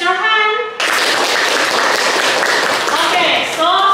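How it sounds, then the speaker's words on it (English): Students in a classroom break into a few seconds of loud, dense hand clapping, with a teacher talking just before and after. "Clap your hand."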